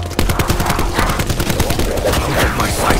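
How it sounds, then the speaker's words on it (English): The overkill minigun in a video game fires a dense, continuous, loud stream of rapid shots with no break. "What this weapon lacks in taste, it makes up for with ludicrous power. The overkill minigun."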